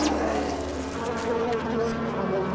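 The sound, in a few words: buzzing wasps from video game Nox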